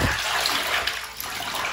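Water sloshing and swirling in a basin as a dog paw soak solution is mixed, a steady close splashing wash with no talk.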